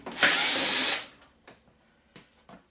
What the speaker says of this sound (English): Definitely would have really sucked if for some reason you didn't have an electric screwdriver.